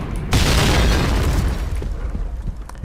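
A loud, close explosion of a shot barrel in a PUBG-style shooter game: a sudden booming blast that rumbles and decays over a couple of seconds.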